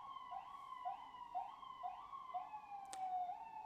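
An ambulance siren wailing in a repeating rising-and-falling pattern, faint and distant outdoors, with a brief click partway through and no voices.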